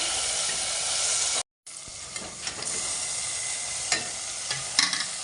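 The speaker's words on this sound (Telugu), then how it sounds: "నెక్స్ట్ నేను చికెన్ యాడ్ చేసుకుంటున్నాను." Chicken pieces frying in a pan for a curry give a continuous loud sizzle and hiss, broken by a brief silent gap and a few clinks and stirring scrapes, with no voices.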